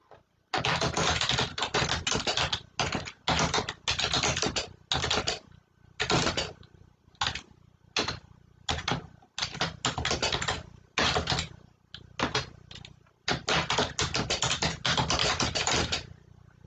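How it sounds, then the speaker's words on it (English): Rapid bursts of keyboard typing, close and crisp, in clustered runs of keystrokes separated by short pauses, with no talking. "I'm going to do a little typing."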